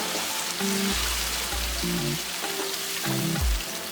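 Blended vegetables hitting a hot pan for Ghana-style spaghetti, a steady close sizzle and crackle with soft stirring scrapes and a few low bumps, no talk.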